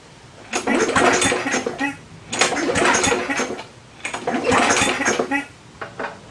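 A lawnmower with an ignition fault is started three times in a row, each loud, close burst of cranking and sputtering engine lasting about a second and a half, ending in a brief fourth sputter.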